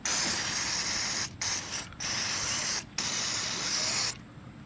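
Aerosol spray can laying down a coating on a rebuilt master cylinder, close hissing bursts separated by short pauses, four or five sprays in quick succession.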